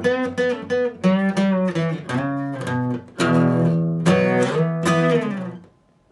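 Guitar runs through the second part of a song's introduction at full speed, quick picked notes flowing into ringing phrases with only brief breaks, close and unaccompanied before a final fade.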